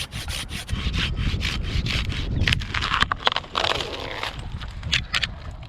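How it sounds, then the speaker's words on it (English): A handsaw cuts through wood in quick, rhythmic back-and-forth strokes, close and fairly loud, with a rasping scrape on each pass and no talking. "I'm gonna finish it with a handsaw."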